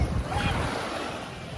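Steady wash of sea waves and wind buffeting the microphone at Baseco Beach on Manila Bay, a loud continuous rumble with no distinct breakers.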